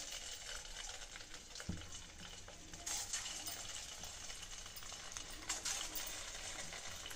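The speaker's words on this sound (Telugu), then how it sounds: "ఫ్లేమ్ని సిమ్లోనే పెట్టి డీప్ ఫ్రై చేసుకోవాలండి." Quiet, gentle sizzle of rava vada deep frying in hot oil over a low flame, with a faint clink near the start and small bursts of bubbling.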